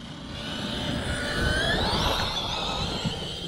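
Small Arrma Fireteam RC basher with a 1650kv Max6 Hobbywing setup, accelerating at full throttle: a steady, fairly loud whining motor rush with rising tone, continuous for a few seconds without talk.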